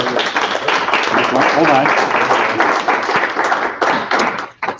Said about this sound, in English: So I think you can probably tell, Dan, by the clapping before that is, how people feel about you here.